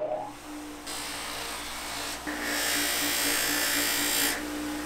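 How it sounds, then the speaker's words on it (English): A bench grinder polishes a grungy brake caliper piston from an RM250 dirt bike rebuild, with a steady loud whine and a broadband hiss that swells as the piston is pressed to the wheel. "I'm gonna see if I can polish it up on the bench grinder."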